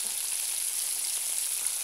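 Fish fries in hot oil as it is turned, making a steady, bright hiss of bubbling fat that stays even and close throughout, with no voices.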